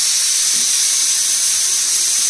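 A pressure cooker on a home kitchen stove vents steam in a loud, continuous, close hiss that holds steady without a break.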